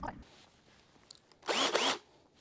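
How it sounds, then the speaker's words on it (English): Power drill pre-drilling into wood for a screw on a homemade garden soil sifter, one brief whirring burst after some quiet handling noises, fairly close. "We're going to pre-drill and put a screw in."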